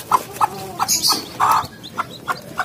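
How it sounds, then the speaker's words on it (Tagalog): Three newly hatched day-old serama chicks make short, bright calls in quick, uneven bursts, close by and fairly loud in an otherwise quiet room. "May bago tayong isa dito na sirama. Ayan. 3 ang bagong sisiw."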